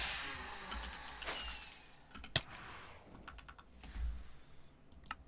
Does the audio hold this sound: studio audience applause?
no